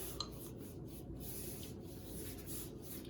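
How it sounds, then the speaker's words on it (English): A brush spreading white primer on bathroom trim, a soft continuous scratchy rubbing of bristles on wood with faint rhythmic strokes, quiet and close, with no talking. "We're painting our trim white."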